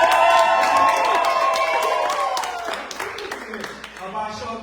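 An audience at a live book-launch event cheers, whoops and claps in response, loud and dense at first, then thinning out with scattered claps and voices.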